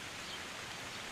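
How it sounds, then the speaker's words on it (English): Steady rain falling, a dense even hiss that stays constant and fairly loud throughout with no voices or other sounds. "Listen to the rain."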